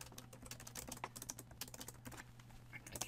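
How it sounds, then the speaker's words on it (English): Typing on a computer keyboard, a quiet, uneven patter of key clicks with small bursts and short pauses, close by and low in level, with no talk. "I cannot type."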